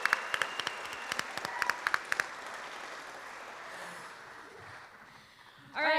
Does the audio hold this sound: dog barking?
no